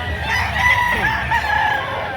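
Rooster crowing at a chicken sale, a drawn-out call standing out over the steady murmur and bustle of the market crowd.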